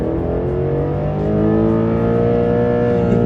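A BMW M8 Competition Gran Coupe engine accelerates on an on-ramp in the rain, its deep exhaust note climbing steadily in pitch, loud and close from inside the car with no talk.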